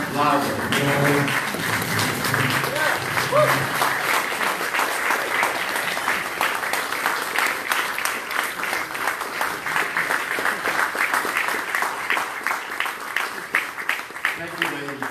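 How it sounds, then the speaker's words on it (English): A standing audience at a talk by Ann McElhinney applauds loudly, dense sustained clapping filling the hall for about fifteen seconds, with voices mixed in underneath. "Seriously, stand up and applaud loudly."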